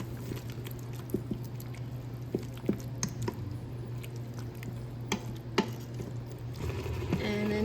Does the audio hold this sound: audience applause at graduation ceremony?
no